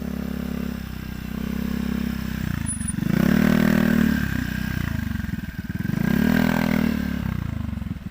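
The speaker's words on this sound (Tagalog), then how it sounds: "kung mapapansin nyo yung mga motor dyan dumadaan sa tabing aplaya" Motorcycles ride along a beach road in Magsaysay, Occidental Mindoro, a route damaged by a typhoon. A steady engine drone rises twice as bikes pass fairly close, then fades between passes, with no talk.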